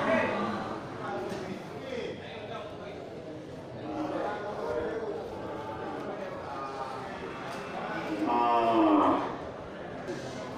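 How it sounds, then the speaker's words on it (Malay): Simmental cattle low and moo several times at a livestock pen, with one loud drawn-out moo near the end, while someone talks over them throughout. "terlihat di depan kita ini beberapa ekor sapi betina ya, dan sapi indukan"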